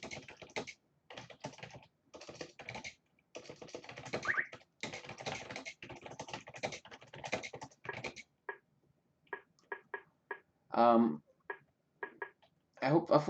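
A computer keyboard clatters in short bursts of typing, close and fairly quiet, mixed in with someone talking.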